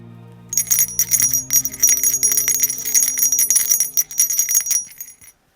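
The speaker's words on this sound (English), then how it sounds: "the bell still rings for me, as it does for all who truly believe" A bell rings steadily and brightly on its own for about five seconds, close and clear with a sustained shimmering tone, in a Christmas story setting about a sleigh bell.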